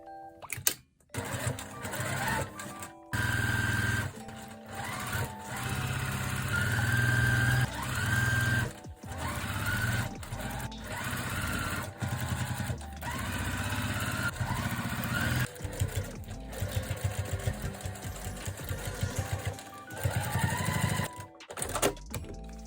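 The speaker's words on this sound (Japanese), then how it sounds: "エナメルの生地をカットして、 縫っていきます。" A sewing machine stitches enamel fabric for a dress base in long, steady buzzing runs, broken by brief stops and restarts, loud and close with no voices.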